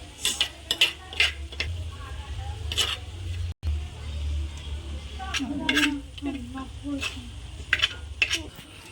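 A spoon clinks and scrapes against a pan while cooked clam meat is stirred for a tapioca-and-clam dish, with scattered metallic taps and soft sizzling, and a voice briefly heard partway through.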